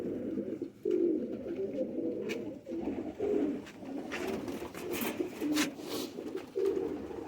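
Shekhon wale pigeons coo in low, throaty rolling phrases, repeated several times up close, with some faint rustling and background noise between calls.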